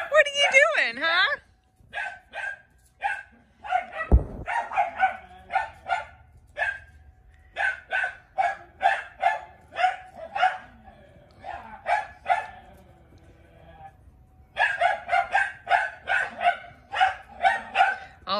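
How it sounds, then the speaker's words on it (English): A playful dog barks repeatedly in short, sharp bursts, close by and loud, with pauses between volleys and a brief thump partway through; no other sounds break in. "All this barking."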